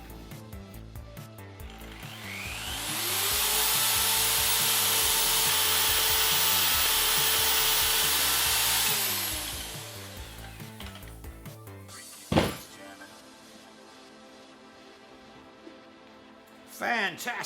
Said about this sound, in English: This is the GSB 162-2RE high power diamond drilling machine.